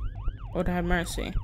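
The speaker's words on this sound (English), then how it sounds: "That's the sound of the police" A police siren from the video game The Stalked wails in rising and falling sweeps, fairly near, while a person speaks briefly over it.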